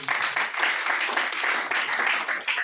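A large crowd at a public address in Kinshasa applauds and cheers for the king, a steady dense roar of clapping and voices that holds loud and unbroken throughout.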